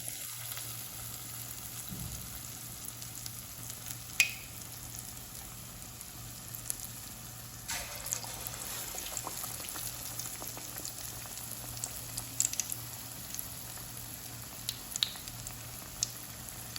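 Plantain bajji, plantain slices dipped in batter, frying in hot oil: a steady soft sizzle and bubbling that carries on for a long stretch, dotted with occasional faint clicks and pops.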